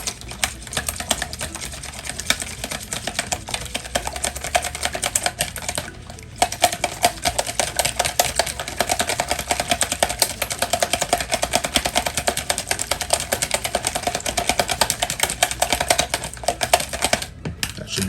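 Eggs for fried deviled eggs are whisked briskly in a bowl for scrambling, a rapid, continuous clatter of utensil against the side with a couple of short pauses, close and fairly loud.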